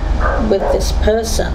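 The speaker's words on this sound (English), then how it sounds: "sorry for the dog barking next door" A dog next door barks in a couple of short yips and woofs, fairly close and loud, mixed in under a person talking.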